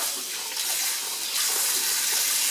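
Hot water runs from a kitchen tap in a steady hiss and gush, close and alone, growing a little louder partway through.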